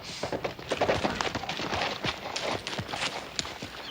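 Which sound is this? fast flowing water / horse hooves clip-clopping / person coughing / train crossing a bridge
horse hooves clip-clopping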